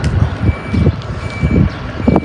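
A bus backing up near an Asian halal food mart sounds its reversing alarm, a steady repeating electronic beep over low street and engine rumble, fairly close and loud.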